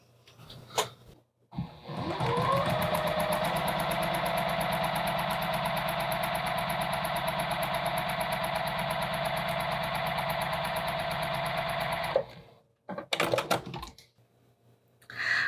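A sewing machine stitches quilt economy blocks, running in one steady, close, continuous burst of about ten seconds before stopping, with brief handling clatter after.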